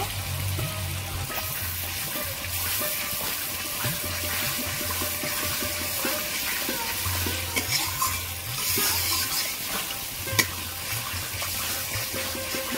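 Thick spiced gravy for aloo kosha, cooked down with a splash of water and sugar, stirred and sautéed in a pan with steady scraping and a soft sizzle, the scrapes repeating throughout under a faint background tone.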